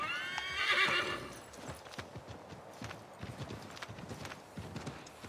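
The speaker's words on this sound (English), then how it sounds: "Horse. Pretty sure that's a different horse." A horse in the Assassin's Creed 3 video game lets out a high, shaky whinny, followed by steady clip-clopping hooves trotting at moderate loudness with soft ambient background.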